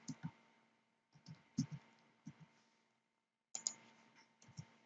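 Sparse bursts of computer keyboard typing, a few quick clicks at a time, separated by short silent pauses, quiet and close.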